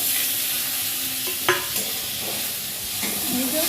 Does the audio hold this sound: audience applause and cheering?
no